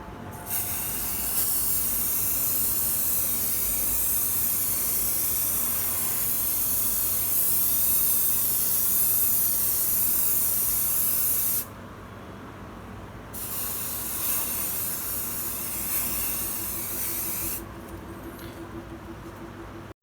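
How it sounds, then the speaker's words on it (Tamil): Fixative spray is applied to a drawing in steady, loud aerosol hiss bursts, with one long continuous spray followed by shorter sprays and brief pauses, close up with no talking. "ஸோ இந்த ஸ்ப்ரேவை நான் இந்த ட்ராயிங்கில் யூஸ் பண்ண போகிறேன்."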